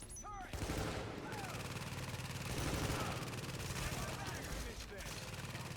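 Turret gunfire from the video game The Division, a dense sustained barrage of rapid shots with explosions and metallic impacts, loud and continuous under shouted voices.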